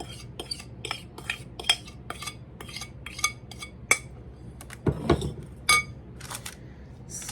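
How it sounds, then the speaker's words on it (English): A spoon scrapes and taps against a baking pan while spreading fruit filling for a fall crumble, giving a series of sharp, close clinks and scrapes with short pauses between them. "We're gonna just dump these right into our pan."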